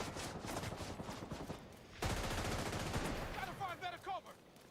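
Automatic turret fire in The Division 2, rapid bursts of shots that swell louder midway through and then trail off with scattered impacts and chatter.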